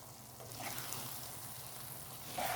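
Sticky rice for biko malagkit being stirred in a pan, giving a steady, moderately loud scraping and soft sizzling texture that continues throughout without any speech.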